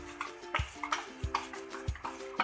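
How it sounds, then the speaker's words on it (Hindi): Pancake batter being gently stirred by hand in a bowl, soft rhythmic scraping and tapping of the utensil repeating about every half second, close and quiet with no talking. "ऐसा ऐसा मिक्स करना है आपने हल्के हाथ से"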